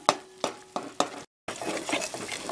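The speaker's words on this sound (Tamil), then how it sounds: "கொஞ்சம் நேரம் நல்லா வதங்கணும்" Ingredients for cashew nut rice sautéed in a pan, four sharp rhythmic scrapes of a spatula over sizzling oil, a brief cut to silence, then a busier continuous sizzle and stirring, close by.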